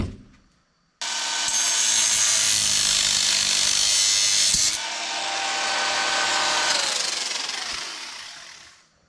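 A loud power tool grinds through a metal pin on a 20-ton shop press, starting abruptly after a brief pause and cutting steadily for several seconds before winding down.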